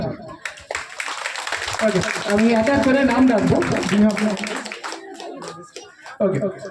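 An audience claps to welcome fifteen students at a class program, a dense patter of hands that swells and lingers while people talk over it.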